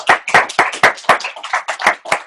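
A small group claps for a colleague at a workplace team meeting, a brief round of uneven, close hand claps with distinct sharp slaps in a loose rhythm.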